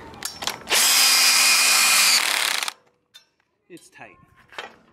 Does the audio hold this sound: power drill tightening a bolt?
yes